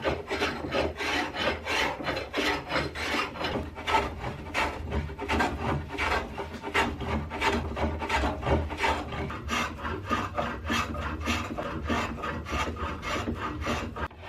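A hand plane works the side bevel of a wooden boat stem clamped flat on a workbench, a close, continuous run of rhythmic rasping strokes repeating steadily throughout.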